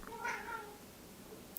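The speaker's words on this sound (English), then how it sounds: "I don't know if you hear my cat in the background." A pet cat chatters while watching birds outside, a short burst of quiet, trilling vocal clicks and chirps near the start, faint and in the background, then fading to near silence.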